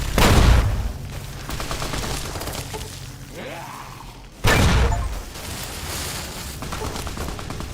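Explosive weapon fire in Fallout: New Vegas, Lonesome Road, arrives as two heavy blasts about four seconds apart, each followed by rumbling debris and a long decaying tail, loud and close with no talk over it.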